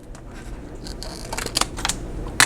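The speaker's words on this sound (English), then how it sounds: "I have to cut off this excess on the end" Scissors trimming excess paper off the end of a strip during a craft session: a few quick, crisp snips and rustles close by, with a sharper cut near the end.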